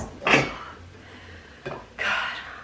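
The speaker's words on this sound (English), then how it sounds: "it is so hard to hand mix this" Banana bread batter being mixed by hand in a bowl gives a few short scraping, clattering bursts, with quieter stretches between them.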